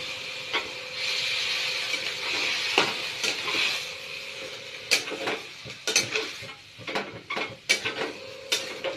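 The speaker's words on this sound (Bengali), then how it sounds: "স্কোয়াশটা এবার আমি সম্পূর্ণটা দিয়ে দিচ্ছি।" Grated squash tipped into a pan of fried onions, a bright sizzle swelling as it lands, followed by repeated metal clinks and scrapes of stirring, close up with no talk.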